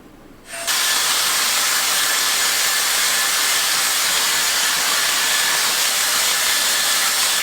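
Dyson Airstrait straightener blowing air to dry hair roots, switching on abruptly and then holding a loud, steady, broadband rushing hiss close to the microphone, with no talking.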